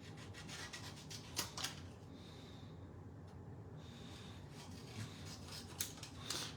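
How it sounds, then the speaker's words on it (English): Scissors fussy-cut a stamped paper image. Soft, close snips and paper rustles come in an irregular string over a quiet background. "All right, we are in a fussy cutting mode now. So let's go ahead and get this all cut out."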